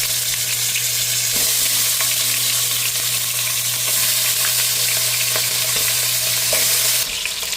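Chicken pieces fry with ginger in a hot pan, giving a loud, steady, close sizzle that runs unbroken with a faint low hum underneath and occasional light stirring clicks.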